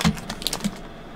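A computer keyboard is being cleared, giving a short burst of light key presses and clicks over about a second, close and alone with no talking.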